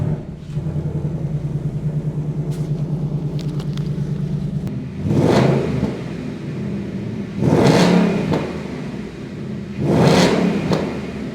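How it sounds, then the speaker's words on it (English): A 2021 Ford Mustang GT's 5-liter V8 idles with a steady low burble through its active performance exhaust and quad tips, then blips to three loud, sharp revs, each one roaring up and falling back to idle. "This one has the active performance exhaust, which absolutely sounds heavenly."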